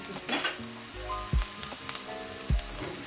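Vegetables sizzle steadily in a frying pan while a utensil stirs and scrapes against the pan now and then.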